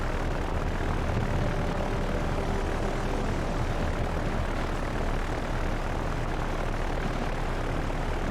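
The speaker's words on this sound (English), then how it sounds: "We've got the dive bombers going in first," Dive bomber aircraft engines in the naval combat video game Victory at Sea Pacific, a loud, steady propeller drone that fills the whole stretch without pause.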